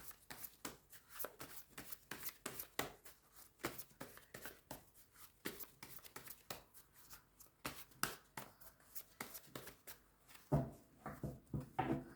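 Tarot cards are shuffled by hand for a reading: a close, quiet run of quick papery riffles and slaps in an irregular rhythm, with no talking.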